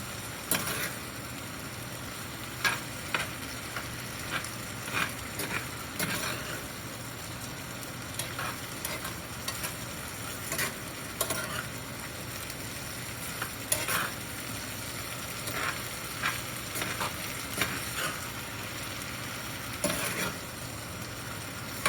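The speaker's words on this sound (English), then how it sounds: "I'm making sure I keep stirring them up so they won't burn." Hushpuppies bubbling in hot frying oil while being stirred, a steady quiet sizzle broken by repeated scraping and clinking strokes at irregular intervals, heard up close without any talking.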